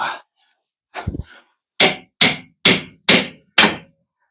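Six sharp hammer blows strike a 1980 Triumph TR7 engine, one early knock followed by a short rattle, then five loud, evenly spaced whacks close to the microphone with silence between them.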